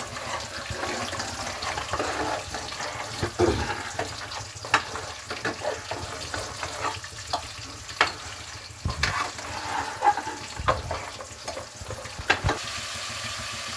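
Cashews, a single cardamom pod, onion and green chili frying in a pan for vegetable pulao, a steady close sizzle with repeated scraping stirs and occasional clinks of the spoon, no talking.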